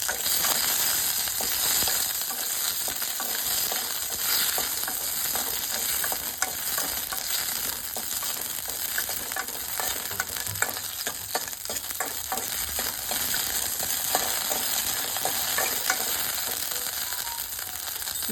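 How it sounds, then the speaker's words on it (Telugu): Green chillies fry in a little oil until golden, a steady close sizzle and crackle lasting throughout with scattered small pops and utensil scrapes, no voices. "దాంట్లో కొద్దిగా నూనె పోసి వాటిని దోరగా వేయించుకుంటున్నా"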